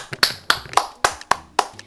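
One person claps hands sharply about seven times in a steady rhythm, each clap crisp and close, with brief quiet gaps between them.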